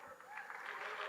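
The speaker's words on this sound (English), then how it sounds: "They're clapping." Audience clapping, a steady broadband patter of applause that holds at a fairly even, moderate level through the short moment without a break.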